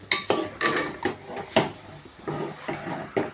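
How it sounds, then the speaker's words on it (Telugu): A utensil scrapes and knocks against a pan while spicy mutton liver curry is stirred, giving a series of sharp, close metallic clacks in an uneven rhythm. "ఇదంతా కూడా తిప్పుకోవాలండి."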